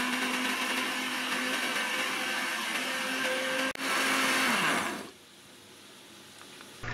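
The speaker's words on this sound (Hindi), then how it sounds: "और दही और थोड़ा सा पानी भी डाल लें और ग्राइंड कर लें।" Electric mixer grinder blending green chutney with yogurt and a little water, a loud steady whirring drone that briefly dips, revs again, then winds down to quiet.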